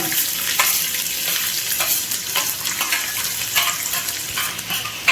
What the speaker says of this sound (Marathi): याच्यावर आपण टाकून देऊ कांदा